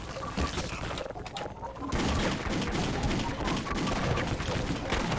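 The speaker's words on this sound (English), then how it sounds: "came right in here with that Gauss cannon" Rapid, heavy energy-weapon fire from a Gauss cannon in the Opposing Force multiplayer game, a dense continuous barrage that swells louder partway through and keeps pounding to the end.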